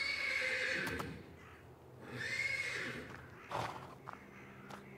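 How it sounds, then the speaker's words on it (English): Horse in stables neighing repeatedly, loud close whinnies with snorts and hoof shuffles between them, from the video game Black Book. "The persistent neighing of a horse can be heard from the stables"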